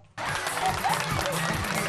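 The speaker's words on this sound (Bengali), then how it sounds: "ওর জন্য একটা হাততালি দাও।" An audience applauds a child performer on a stage show, a dense steady wash of clapping that starts abruptly and holds at a strong level throughout, with no voices on top.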